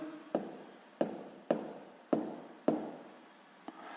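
Pen strokes on paper as a minus twenty-one answer is written down during a sixth-grade math exercise: five or six crisp, close scratches at an uneven rhythm, with no talking.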